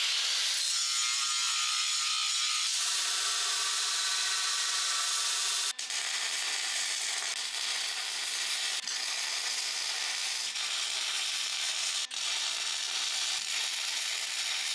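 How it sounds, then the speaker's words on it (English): A grinder cleaning up twisted Damascus steel bars for a knife: a steady, loud, high-pitched grinding whine that runs without a break, with a few brief changes in tone as the steel meets the wheel. "hop over to the grinder, get these bars nice and cleaned up and ready for our second forge weld"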